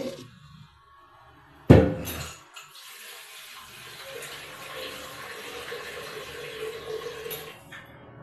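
A steady rush of water pours into a cooking pot for a vegetable dal, close and continuous for several seconds after a single sharp knock, then stops.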